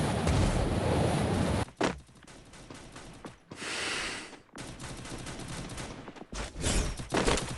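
Rapid bursts of gunfire ring out in the Free Fire MAX battle royale game. Dense volleys repeat through the clip, separated by brief quieter gaps.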